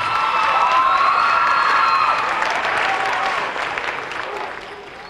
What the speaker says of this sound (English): give them a hand of applause, please